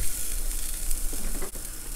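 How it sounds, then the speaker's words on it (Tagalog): Corn going into a pot of soup at a rolling boil, a steady sizzling bubble with a brief splash and stir, close and alone with no talk. "Lagyan na po natin itong ating mais."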